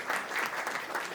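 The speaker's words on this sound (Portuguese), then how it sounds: "Palmas." Brief burst of audience applause at a gathering with a government minister, dense and steady clapping at moderate loudness.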